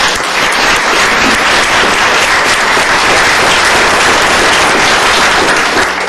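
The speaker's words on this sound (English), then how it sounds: "let's give everybody a big round of applause" Loud, dense audience applause in a county commissioners court, a continuous close roar of clapping that holds steady throughout.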